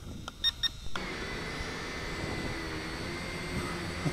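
A Syma X5SC quadcopter drone flies at full forward pitch upwind in a light breeze, its steady broadband motor whir continuous and fairly close after a few short beeps at the start.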